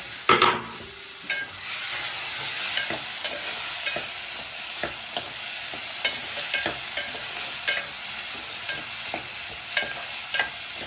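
Green chili, onion and tomato frying together in a pan, a steady close sizzle with repeated scraping and stirring clicks from a spoon, no voices over it.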